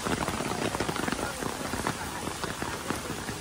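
Steady rain falling on surfaces at a Taiwan rock formation site, a dense patter of close drops with scattered louder splashes throughout, heard on its own.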